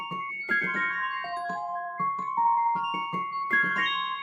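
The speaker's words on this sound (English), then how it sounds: "I used the Dulce Tone River bell" A Keyscape Dulce Tone River bell patch plays a dry melodic pattern with no effects, its bright plucked bell notes stepping up and down at a moderate, unsteady pace and sounding fairly soft and alone.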